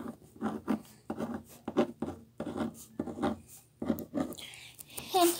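A pen writes a name on a handmade Valentine's card, giving close, quiet scratchy strokes in short repeated bursts with brief pauses between letters, and no talk.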